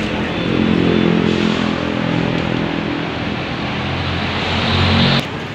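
A Faizzo motorcycle engine, freshly dosed with GTO oil additive by a mechanic, idles close by with a steady, throbbing drone. It cuts off abruptly near the end, with no talking.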